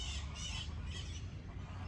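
Geese squawk and honk repeatedly in harsh, overlapping calls against a steady outdoor background.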